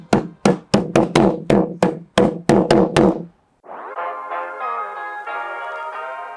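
Hand-painted goat skin drum (Malaysian ethnic instrument) struck by hand in about ten sharp, resonant knocks in an uneven rhythm, near and loud, then giving way to a sustained tonal instrument droning.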